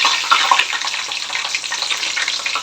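Whole spices for chicken biryani fry in hot oil, giving a steady, close crackling hiss that sputters continuously throughout.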